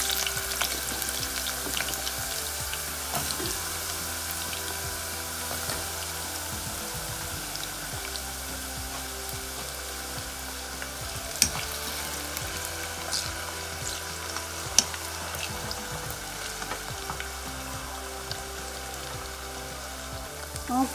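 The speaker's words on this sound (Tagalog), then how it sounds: "This time, I'm gonna fry the potato" Potatoes frying in hot oil: a dense, even crackling sizzle that continues throughout at moderate volume, close by, with a couple of sharp pops and no talking.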